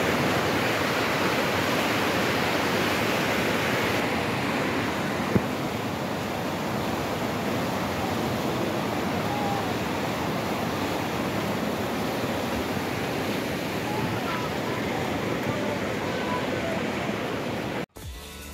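Steady broadband rush of the Lubi River flowing in Kasai-Oriental, Congo, a constant loud wash of water without breaks, with a brief thump near the end.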